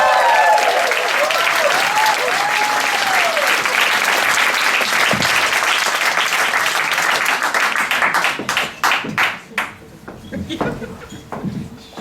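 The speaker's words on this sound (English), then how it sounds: "So give a round of applause, your first comedian for the second half, Professor Annick Hubin." An audience applauds a comedian, a female science professor at a comedy club show, with dense, loud clapping that thins into scattered claps toward the end.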